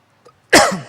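A single sharp, loud cough bursts out close by after a brief faint breath.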